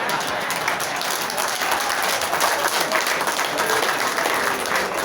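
Applause from a seated audience at a budget meeting of a Ugandan urban authorities association, a steady, dense wash of many hands clapping that holds at one level throughout with no gaps.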